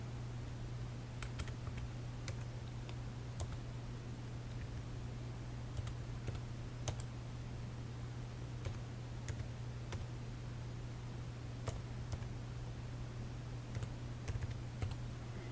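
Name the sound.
typing a debit card number on a computer keyboard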